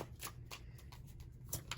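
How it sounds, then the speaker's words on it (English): A deck of tarot cards is shuffled close by, giving a run of quick papery riffles and soft card slaps in an uneven rhythm, quiet and with no talking. "Let's do one more shuffle."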